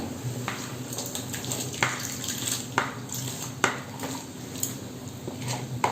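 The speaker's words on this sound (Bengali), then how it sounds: "মশলাটা ফুটে উঠেছে, এর মধ্যে আমি দিয়ে দিচ্ছি সিদ্ধ করা ডাল।" Boiled dal poured into sizzling tempered spices in a pot for Punjabi mixed dal tadka, giving a soft continuous sizzle and bubbling with several clinks of a utensil against the pot, fairly quiet and close.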